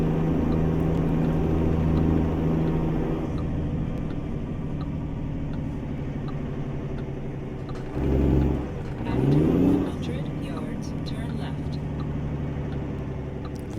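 A Mack B62 truck with a 15-speed twin-stick triplex transmission hums along in American Truck Simulator, its engine droning steadily, then dipping and surging twice as gears are shifted.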